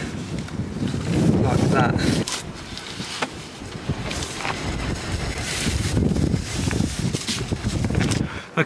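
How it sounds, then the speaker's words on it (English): Wind gusting outdoors while a rear guard is fitted to a VW Caddy, heavy buffeting rumbles on the microphone with a person talking briefly. "It is a bit of a struggle up here in the wind"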